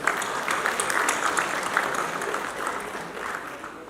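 An audience at a tennis league announcement event claps steadily for a legendary tennis player, a dense, even wash of applause lasting a few seconds and tapering slightly at the end.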